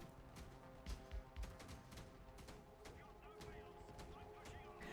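Autocannon fire in a video game: rapid, repeated heavy thuds and cracks in an uneven stream, loud at first and continuing steadily.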